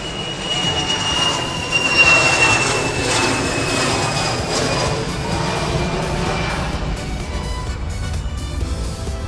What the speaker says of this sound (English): Uh-oh, we got a plane.